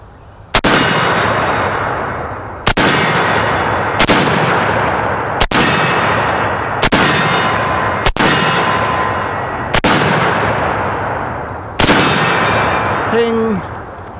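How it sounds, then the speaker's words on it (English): A pre-World War II M1 Garand rifle fires eight loud, evenly spaced shots, each ringing out and decaying, followed by a short metallic ping. "We'll give you 8 rounds out of a pre-World War II Garand."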